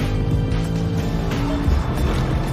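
BMW M5 hybrid, Audi RS7 and Mercedes-AMG E63 running a rolling-start roll race, a dense, steady roar of engines and road noise holding loud throughout with no talk.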